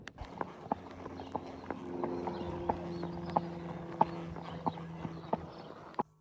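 A horse being led at a walk, its hooves clip-clopping in a steady, evenly spaced rhythm of sharp knocks over a low background hum, no talk.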